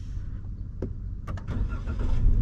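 An automatic car's engine being switched off: a low rumble with a few brief clicks and mechanical knocks, the engine hum shifting and swelling slightly toward the end, close and fairly quiet.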